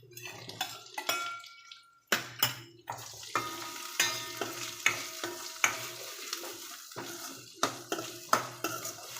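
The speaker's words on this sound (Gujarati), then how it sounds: "આ કેપ્સિકમને વઘારી દેવાનું" Chopped capsicum tossed into hot oil in a pan with softened tomatoes for a corn capsicum masala, giving a steady close sizzle broken by repeated sharp clinks of a spoon stirring against the metal pan.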